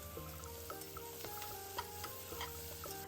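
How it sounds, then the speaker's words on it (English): Diced onion and chili frying in butter and oil in a saucepan, a soft steady sizzle with light scraping stirs and faint clinks, quiet and continuous. "Toss the diced onion and 1 chili. Cook the onion till it is soft."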